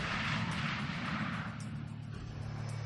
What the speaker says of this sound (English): Landing the F-18 Hornet can make even the most seasoned veterans break a sweat.